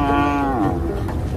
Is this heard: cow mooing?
yes